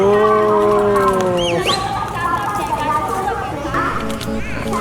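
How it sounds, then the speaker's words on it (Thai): A flock of sheep on a vintage farm in Suan Phueng, Ratchaburi, bleats in long wavering calls near and farther off, over the steady murmur of people talking nearby. "แกะมาเต็มเลยโอ"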